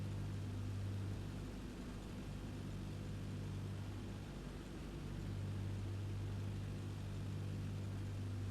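Steady low propeller engine drone from an aircraft in the FSX flight simulator game, throttled back to 1500 RPM during a descent, continuous and even with a constant hum throughout.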